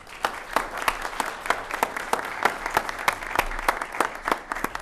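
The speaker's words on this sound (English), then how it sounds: "And another round of applause for our future leaders, Mimi and Angel." Applause from an audience at a civic recognition ceremony with the mayor and council, many hands clapping in a dense, steady patter at moderate distance for several seconds with no talk over it.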